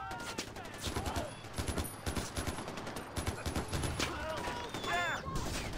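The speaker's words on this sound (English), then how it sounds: "Where are you shooting at?" Rapid gunfire from the video game Far Cry 4 crackles in repeated bursts and volleys throughout, with game voices and effects mixed in.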